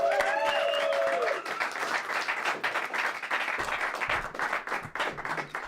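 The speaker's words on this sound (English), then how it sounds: "Please give a big round of applause for my good friend" A comedy club audience applauds comedian David Rodriguez with a burst of close, dense clapping that continues steadily, and a brief voice over the opening moment.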